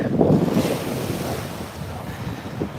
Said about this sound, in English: The wind's blowing down.